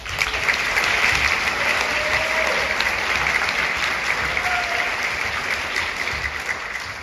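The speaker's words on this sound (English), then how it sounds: "Round of applause." An audience applauds at a junior high and high school orchestra concert, with sustained, dense clapping filling the hall, loud and steady throughout before tapering slightly at the end.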